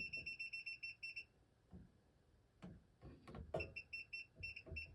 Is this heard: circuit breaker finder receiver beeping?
yes